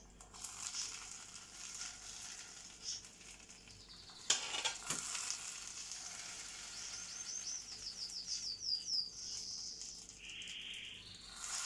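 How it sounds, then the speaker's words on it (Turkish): Butter sauce poured over a pot of yogurt soup sizzles with a steady, bright hiss and crackle, swelling in a sharp spatter midway and carrying on with high, chirping pops. "Evet arkadaşlar sosumuzu çorbamız üzerine döküyoruz."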